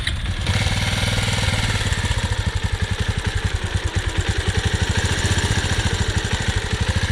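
A motorcycle engine runs with Maaza mango drink poured in instead of oil, a loud, close idle with a fast, even chugging pulse and a faint hissing undertone, and no voices.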